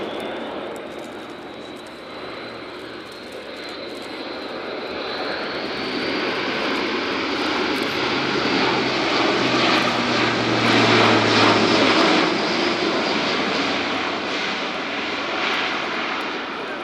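An Airbus A400M Atlas military transport of the German Air Force, landing with its undercarriage extended at an air show, makes a loud, steady turboprop roar that swells as the aircraft passes close by and then eases slightly.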